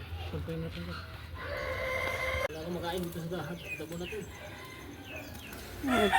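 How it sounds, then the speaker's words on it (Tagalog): A fighting rooster crows clearly nearby while other chickens cluck around it, and a person talks intermittently in the background. "nandyan yung ibang mga manok panabong naman"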